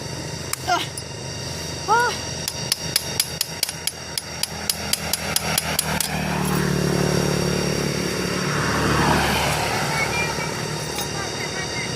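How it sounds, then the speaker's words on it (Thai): Sharp metallic hammer blows strike in a steady rapid series, then give way to a loud, rumbling motor noise. Voices can be heard early on. "เดี๋ยวเขาจะตอก"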